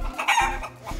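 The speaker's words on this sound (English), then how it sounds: "It's a little chicken. I like chickens." Chickens in a farm pen coop give short clucking calls, a few close bursts in just over a second, with no talk in the clip.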